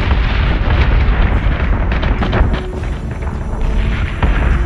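Spaceship secondary batteries in Battlestar Galactica Deadlock fire in a dense, loud barrage of booming blasts and explosions that rumbles on without a break.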